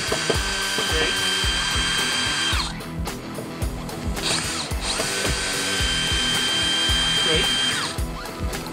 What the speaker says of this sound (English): Back them out with the gun.